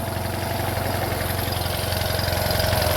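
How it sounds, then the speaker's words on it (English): An older Honda outboard motor with a single carburetor idles steadily in forward gear, a close, continuous low engine putter with even rhythm and no talk over it. "Alright, so we're going to put this motor in gear."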